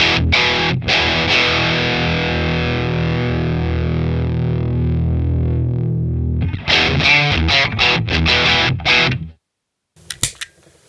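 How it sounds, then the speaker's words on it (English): A loud electric guitar chord through a Fender Hammertone Distortion pedal rings out and slowly decays, followed by a quick series of choppy distorted strums, then silence. "It's not brutal, but it's a good distortion."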